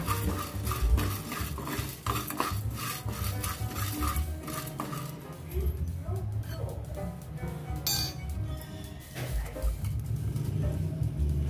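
Kashmiri chillies and tamarind pieces dry-frying in a pan with no oil for a cluster beans fry, a steady run of metallic clinks and scraping from stirring against the pan, close and continuous with no talk.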